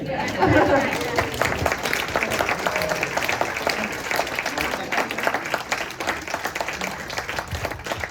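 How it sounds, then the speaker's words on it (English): Applause at a synagogue gala party honoring a rabbi's 40th anniversary: a crowd claps steadily and warmly for several seconds, with chatter and a few laughs mixed in. "a round of applause, perhaps even a standing ovation for our rabbi of 40 years."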